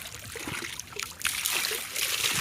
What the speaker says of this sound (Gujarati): થોડાક માથે પાણી નાખીને નવરાવી દીધું છે